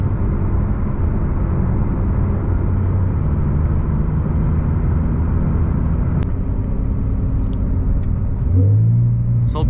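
TECHART-tuned 992 Porsche 911 Turbo S cruising in normal mode, heard as a steady, subdued engine and road rumble with a constant low drone, a brief change in tone near the end, and no voices.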